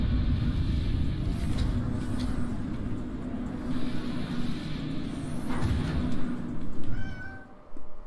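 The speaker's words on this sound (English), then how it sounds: "Kitty, Daddy is recording the video. Please stop." A house cat meows close by over a low rumbling game soundtrack, a few short cries standing out near the end.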